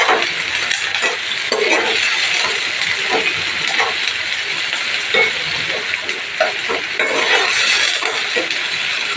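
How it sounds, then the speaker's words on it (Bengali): Onions fry in a pan for a home lunch, with a loud, steady sizzling hiss and faint stirring scrapes throughout. "ভালো করে একটু পেঁয়াজটা ভেজে নিতে হবে"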